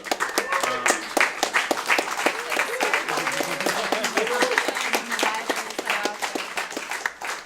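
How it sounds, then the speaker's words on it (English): Audience applause with distinct individual claps at an event in Portland, mixed with voices and cheering from the crowd throughout. "So a round of applause for that too."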